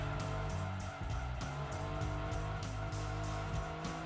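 A Dodge Viper engine in Gran Turismo 2, a racing video game, drones loudly and steadily throughout, its pitch stepping up and dropping with gear changes and throttle shifts.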